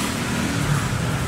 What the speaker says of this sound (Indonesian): Itu dimasukin mobil udah nyala tuh.